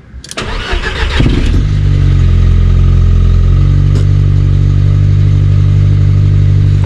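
A Volkswagen Golf 2 Turbo with its silencer removed cranks briefly and fires up, then settles into a loud, close, steady idle with a deep rumbling drone.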